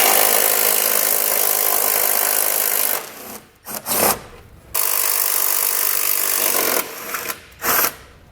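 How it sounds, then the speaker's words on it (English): A 13mm socket on a long extension backs bolts out of the trailer hitch frame on a 2018 Infiniti Q50 while a Curt hitch receiver is set up, giving a close, sustained rasping whir broken by short pauses. "we're going to grab a 13mm socket and we'll pull these 2 bolts out"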